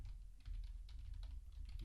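A web address is typed on a computer keyboard in quick, faint, close clicking strokes over a low background hum, with no speech.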